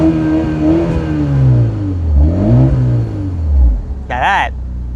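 BMW 330i engine in sport mode revving close and loud, its pitch climbing and falling through several swells with a brief sharp burst near the end.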